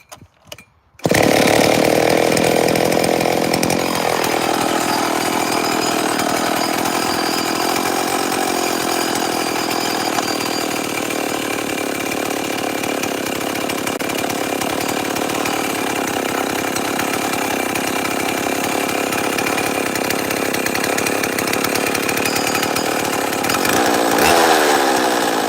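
A chainsaw roars to life and runs loud and steady up close for over twenty seconds, starting right after a brief moment of quiet. No voices are heard over the engine.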